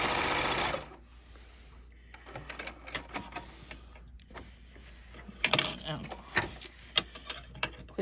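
A sewing machine stitches a pillowcase seam made with the burrito technique, a brief steady whir at the start followed by clicks, taps and handling noises as a person talks at intervals.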